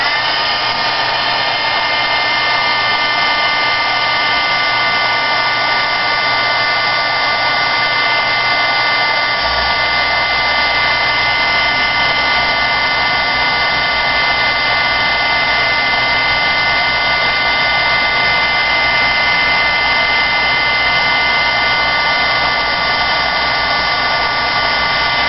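A heat gun blows continuously over embossing powder on a vintage photo craft card, a steady, loud fan whine and hiss that deepens partway through and runs alone without any talk.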